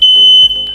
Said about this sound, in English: So no, that smoke detector still works.